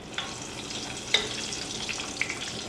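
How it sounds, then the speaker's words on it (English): Food being par fried in hot oil, a steady close sizzle and bubbling crackle throughout, with a few sharper pops and clinks over the frying and no speech. "Get it frying."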